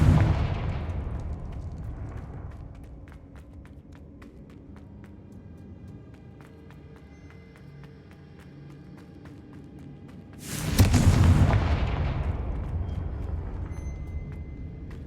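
In Hogwarts Legacy, the Confringo fire spell lands with a loud, sudden blast after a long, quieter rumbling stretch, and a roaring tail fades out afterwards.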